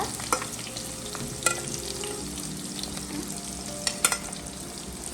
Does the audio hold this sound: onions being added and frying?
yes